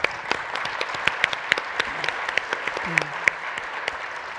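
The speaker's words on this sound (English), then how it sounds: "Let's give you a round of applause." Audience applause at a conference fireside chat, a moderate patter of clapping with individual sharp claps and faint background voices.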